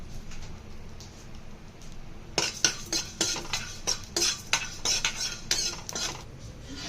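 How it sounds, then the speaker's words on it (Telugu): Coriander seeds dry roasting in a pan, heard as a run of sharp scraping and rattling stirs that starts partway through and repeats roughly every half second, close and fairly clear over a low background hum. "ధనియాలను వేయించుకుంటున్నాను"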